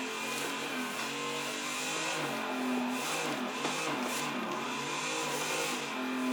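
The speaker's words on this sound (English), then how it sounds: "So from the next corner, I will try to give it a little bit skid." A car drifts in the Assetto Corsa racing game: a steady, loud engine drone rises and falls with revving, and a sustained tire squeal slides through the middle stretch, with no voices.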